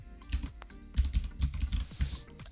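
Fast, close keystrokes on a computer keyboard as an email address is entered into a login form, a dense burst of clicks with a few louder taps, no voices.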